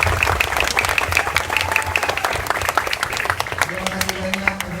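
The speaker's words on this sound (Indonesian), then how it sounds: "Tepuk tangan buat kita semua." At a primary school's Maulid Nabi celebration, a crowd breaks into steady applause after the national anthem, with dense clapping and speech mixed through it for several seconds.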